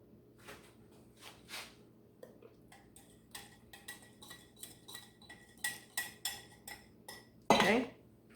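Flour is mixed into potato soup to break up lumps, a quiet run of irregular clinks and taps from a utensil against the pot that grows busier and louder, ending with a sharp clatter.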